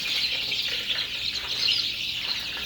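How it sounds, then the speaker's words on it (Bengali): Chicks on a poultry farm in Saudi Arabia, a continuous chorus of high peeping cheeps from many birds, steady and fairly close. "দেখেন মুরগির বাচ্চাগুলা, এখানেও খানা দিছি।"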